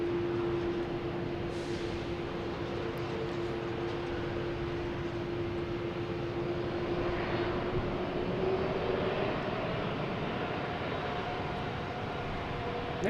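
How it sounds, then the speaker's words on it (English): Airbus A380 airliner taxiing at Boston Logan Airport, a steady, continuous jet engine rumble and whine holding a sustained tone at moderate distance, with no talk. "We also have the A380 here."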